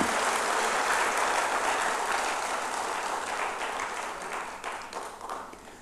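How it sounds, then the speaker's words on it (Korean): A church congregation claps together after a sermon prayer of thanks, a thick, full burst of many hands that holds steady, then slowly tapers and thins toward the end, with no talking over it. "감사의 박수 한번 합시다."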